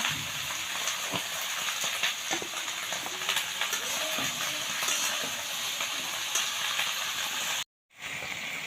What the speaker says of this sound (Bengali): এখন আমি এখানে জিরে বাটাটা দিয়ে এভাবে নেড়ে চেড়ে